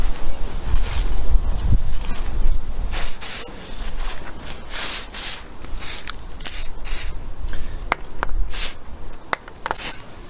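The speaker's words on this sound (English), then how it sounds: "What I am going to do is just spray some GT85 or other Teflon based lubricant around the mechanism on the rear mech." Aerosol GT85 Teflon-based lubricant hisses from a spray can onto a road bike's rear derailleur in a series of short bursts of varying length, close and fairly loud.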